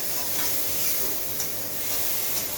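Hilsa fish fries in hot oil in a pan, giving a steady, even sizzling hiss that runs unbroken at moderate level with no talking.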